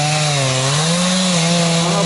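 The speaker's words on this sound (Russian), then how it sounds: "Вот что значит пила мощная, ребят, видали?" Powerful chainsaw cutting firewood in a forest, its engine running loud, close and continuous at a steady high pitch that dips slightly and recovers as the chain bites through the wood.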